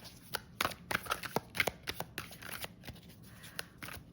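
Tarot cards being shuffled close up, with a quick irregular run of crisp riffling slaps and flicks and no talk.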